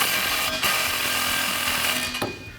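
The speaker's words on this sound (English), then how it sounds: "grab a 10mm socket and wrench and tighten it down" Tightening a black exhaust tip on a 2015-2020 Ford F150 dual side-exit exhaust with a 10mm socket and wrench: a steady, close mechanical whirring and rattling that runs for about two seconds, then fades out.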